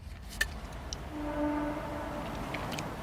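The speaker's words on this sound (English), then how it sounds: "That's just a train." A distant train sounds a faint horn tone amid low rumbling background noise, with a couple of brief clicks at the start.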